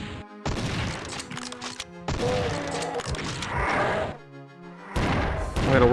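Rocket launcher fire and explosions in the video game Doom II, a series of loud booming blasts and crashes in quick bursts separated by brief gaps.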